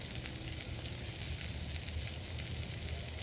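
Steak searing in a pan, a steady close sizzle and crackle of fat that holds at an even level throughout with no one talking.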